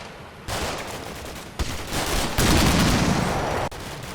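A BTR armored vehicle lays down sustained suppressing fire in the wargame Combat Mission Black Sea, heard as a dense, continuous crackle of gunfire with shifting intensity and a few abrupt cuts.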